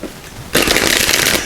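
A deck of cards is shuffled in one quick riffle, a sudden loud burst of dense, crisp flutter that begins abruptly after a short quiet moment and runs steadily to the end, close to the microphone.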